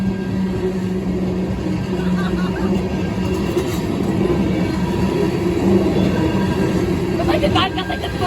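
Norfolk Southern freight train of tank cars rolling through Creighton, a steady, loud continuous rumble with rail clatter and faint squeals throughout, people talking nearby underneath it.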